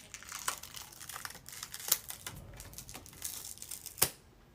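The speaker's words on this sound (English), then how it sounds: "I just rip everything off" Quick, crinkly tearing and peeling of liquid latex special-effects makeup being ripped off skin, in short faint bursts with a few sharper snaps, close and quiet.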